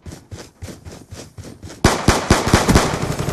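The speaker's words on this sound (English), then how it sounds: "We're gonna use a shotgun." Shotgun fire in a video game: a run of quieter, evenly spaced shots gives way to a louder burst of sharp, booming blasts in quick succession, with no talking.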